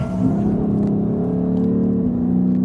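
Car with a 5-litre engine accelerating out of a turn, a steady loud engine drone with a harmonic tone that climbs briefly and then settles, continuous and close with no talk.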